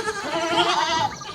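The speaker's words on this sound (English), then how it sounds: "goat" A goat bleats once in a short, wavering call lasting just over a second, close and fairly loud with no voices around it.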